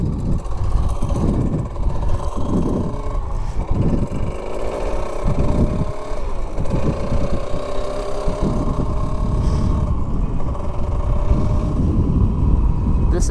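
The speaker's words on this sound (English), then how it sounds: "This is a two-stroke 100cc engine." A two-stroke 100cc engine running close to the microphone with a rough, rumbling drone that rises and falls, buffeted by wind noise.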